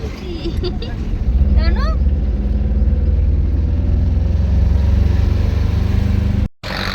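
Road traffic heard from inside a moving vehicle on a crowded single-lane road during a fair, a steady engine drone with passing vehicles under a person talking.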